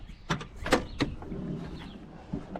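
On an old project truck, a door latch is pulled and the door opens, making a few close mechanical clicks and clunks followed by a brief scraping creak.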